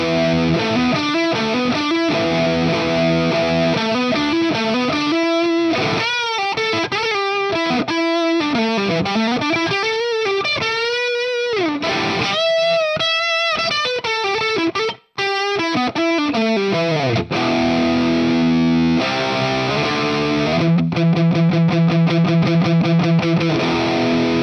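Heavily distorted electric guitar riffing in a dark tone with room reverb, loud and continuous, with sustained chords and bends and a brief gap near the middle, no voices.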